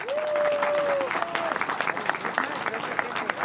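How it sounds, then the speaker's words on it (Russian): Audience applause at a public gathering, a steady wash of clapping from a crowd that is loud at first and then thins into scattered claps, with a voice speaking over part of it. "Ваши аплодисменты, друзья."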